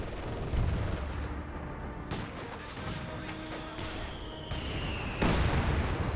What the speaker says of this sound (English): Good mortar hit there. Good MG there.